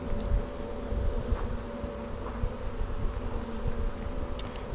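Honey bees buzz steadily around an open hive during a beekeeper's inspection, a dense, constant drone at moderate loudness with faint handling noises and no talk.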